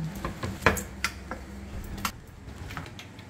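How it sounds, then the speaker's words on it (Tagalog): Dishes being washed: plates and cutlery clink and clatter against each other in bursts, close by, with wet scrubbing and splashing between the knocks and no talk. "Susunod yan ang hugasan, mga pinggan."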